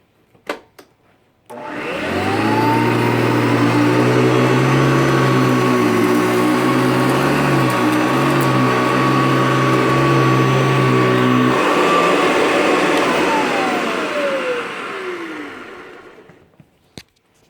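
A vintage Hoover Decade 80 upright vacuum runs on its power surge setting, spinning up to a loud, close, steady whine with a rising pitch, then winding down as the motor is switched off.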